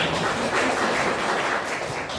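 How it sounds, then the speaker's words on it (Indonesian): Children in a classroom clap together in a dense, steady burst of applause that carries evenly from start to finish. "tepuk tangan buat kalian semua"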